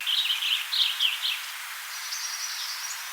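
Faint wild bird calls at a central Kentucky wildlife refuge: a few thin, wavering chirping phrases, then a softer drawn-out call over a quiet hiss of outdoor air.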